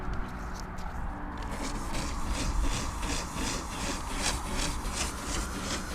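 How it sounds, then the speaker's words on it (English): A firm bristle brush scrubs lightly across a fiberglass surface, giving a steady, rhythmic scratchy rasp of back-and-forth strokes close by. "it says 1 to 3 minutes, and then to scrub with a brush"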